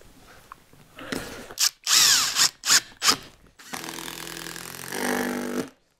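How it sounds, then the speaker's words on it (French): A cordless screwdriver drives screws into laminated wood in several short whirring bursts, then runs in one longer steady stretch, close and fairly loud. "Je mets des vis avec la visseuse"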